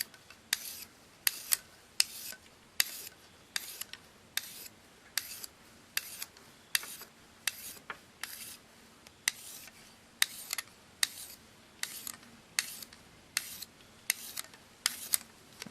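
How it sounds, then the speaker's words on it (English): A kitchen knife is sharpened in even strokes, each a crisp rasping scrape repeated at a regular rhythm of about one per second, close and clear with no talking. "And that's really all I do when I sharpen my knives."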